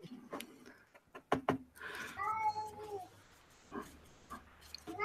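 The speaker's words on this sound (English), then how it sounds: "I'm sure I just heard a cat." A cat meows a few times at close range, a drawn-out wavering cry amid brief knocks and rustles, with faint voices nearby.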